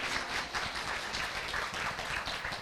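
Audience applause at a Korean talk-concert event honoring actor Ryu Seung-ryong, a steady dense wash of clapping from a crowd, fairly loud and continuous without any talking.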